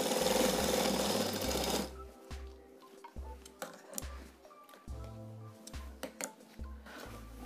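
An electric sewing machine stitches a fabric strip onto the side slit of a kurta, starting with a sustained whirring run, then breaking into short stop-start bursts with ticking pauses between them.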